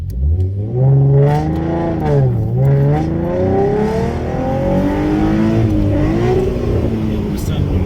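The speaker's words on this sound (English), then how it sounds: "Let's go ahead and give her a rip from first" A tuned car accelerating hard from first gear, engine note climbing steadily in a loud, sustained pull with rising harmonics, close up; a voice seems to speak over it at times.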